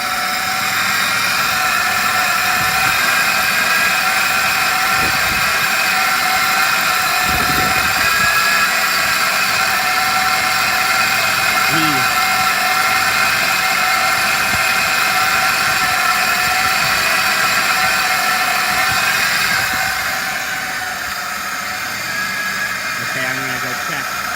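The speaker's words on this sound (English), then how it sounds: "The power steering pump is making a whine." A power steering pump on a 1989 Ford F350 whines with a steady high tonal drone over a constant engine hum, close and loud throughout, with a voice talking over it at times.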